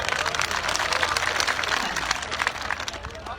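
An audience at a farmers' protest stage applauds in a dense burst of crowd clapping. The clapping is near and loud and eases slightly toward the end.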